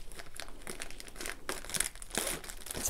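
Plastic packaging on a diamond painting kit crinkles and crackles as it is pried open, in several close, irregular bursts.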